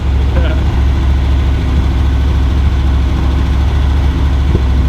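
A Ferrari 308 engine runs steadily with a deep, continuous low rumble, loud and close, its speed being gradually brought down as it smooths out.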